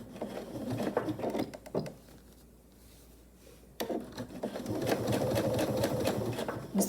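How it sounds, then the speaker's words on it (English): A sewing machine stitches a seam in a vinyl pouch at a quarter-inch allowance, running in rapid mechanical bursts close by, then pausing briefly before stitching steadily again. "I'll take it to the machine and I'll continue on with my 1/4 inch right along here. And I'll start sewing right where I left off"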